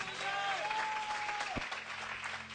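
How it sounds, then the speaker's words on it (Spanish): Church congregation applauding in a worship service, a steady wash of clapping from many hands with some voices mixed in, dying down briefly near the end. "Le damos un fuerte aplauso al Señor y a ellos."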